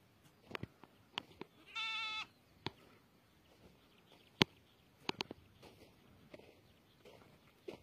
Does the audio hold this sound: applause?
no